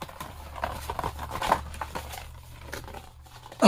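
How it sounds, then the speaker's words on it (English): Christmas presents are wrapped in wrapping paper close to the microphone, giving irregular crinkling, rustling and light tapping sounds with no talking. "if you're on an ASMR and you're hearing somebody wrap presents, it's going to sound like this."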